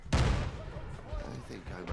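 Grenades go off in a video game as one heavy, booming blast that decays into a rumbling tail over the next couple of seconds.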